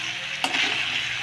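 Fried potato and pointed gourd are stir-fried in a pan for a paneer vegetable curry, giving a steady close sizzle with one brief spatula scrape near the start and no talking.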